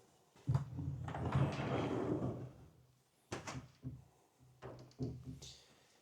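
Soft-close drawers in a cabin slide and settle shut, a long rolling slide followed by several quieter thuds and soft clicks.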